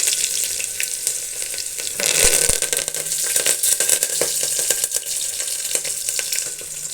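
Mustard seeds splutter and crackle in hot oil in a pan while tempering for a ridge gourd sambar, a continuous close sizzle with scattered sharp pops and no talking.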